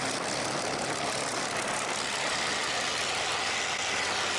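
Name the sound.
Spitfire aircraft engine during pre-takeoff run-up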